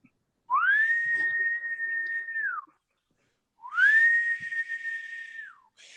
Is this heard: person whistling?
yes